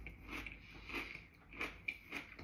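Close crunching bites and chewing of crunchy homemade unpasteurized sauerkraut, several crisp bursts spread over a couple of seconds at moderate loudness, with no talking.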